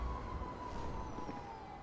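A police siren from the video game GTA V wails steadily at a distance, a single sustained tone drifting slightly in pitch over a low rumble of background noise.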